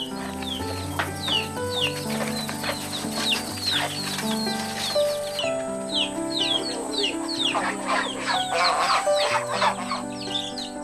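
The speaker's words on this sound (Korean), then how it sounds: "마당에 풀어놓았던 병아리들을 우리에 집어넣는 것" Chicks and chickens in a village farmyard in rural Bangladesh, with rapid high peeping chirps running throughout the clip over a steady low tonal background.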